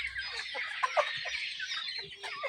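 Desi chickens cluck softly and repeatedly in an enclosed coop, a close, steady stream of low clucks and calls with no talk.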